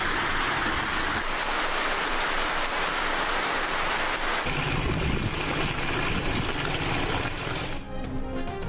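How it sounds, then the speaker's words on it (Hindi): Heavy stormy rain in northern Balochistan, a dense, steady roar of downpour that fills the whole stretch without letup, loud and close, with no voices. "चमन, कला अब्दुल्ला, ज़ियारत समेत बलूचिस्तान के शुमाली इलाकों में तूफानी बारिश और जालाबारी।"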